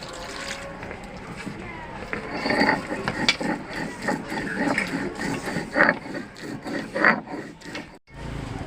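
Poppy seeds are ground by hand on a stone, a close gritty scraping and rubbing in uneven strokes that grows busier midway, with a brief pause near the end.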